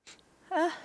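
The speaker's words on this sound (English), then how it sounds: "she is a talkative cat" A big fat calico cat gives a single short, rising-and-falling meow, close and fairly clear, after a faint brief sound at the start.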